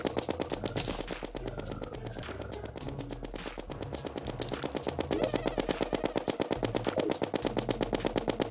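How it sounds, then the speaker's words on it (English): Rapid automatic gunfire in the Terraria video game, a dense stream of sharp repeated shots rattling steadily and loudly through the whole stretch, with faint game effects layered beneath. "I can still hear you firing"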